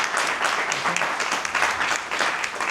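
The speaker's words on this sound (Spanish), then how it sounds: "Vamos a darle un aplauso." At a round-table discussion about suicide, the audience claps for a panelist in a steady, full burst of applause that fills the whole short moment.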